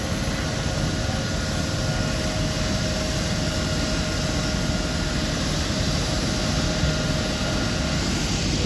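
A Life Link medical helicopter lifts off from a Walmart parking lot, its engine and rotors making a loud, continuous broadband roar that stays steady and close throughout, with no voices.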